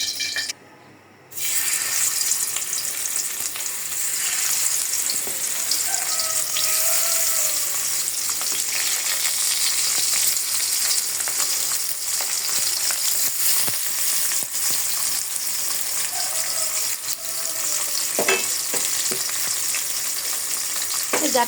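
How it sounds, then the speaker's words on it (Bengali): Small jatka fish coated in turmeric and salt fry in hot oil, a loud continuous close sizzle that runs nearly the whole time after a brief quiet start, with occasional light clinks and no talking. "জাটকা মাছ শুধু হলুদ আর লবণ দিয়ে আমি ভাজবো।"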